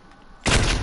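Gunshot in the video game Modern Warfare, a sudden loud broadband blast that breaks in after a quiet moment and sustains briefly with a rough tail.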